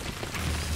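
A Confringo fire spell blasts in the Hogwarts Legacy video game, a short, dense boom with a low rumble that swells near the end and stands alone without talk.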